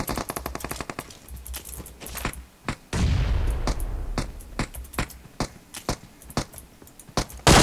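Gunfire and a grenade blast in the battle-royale game PUBG Mobile: rapid bursts of shots, then a heavy booming explosion with rumbling tail, followed by scattered single shots and another loud bang at the end.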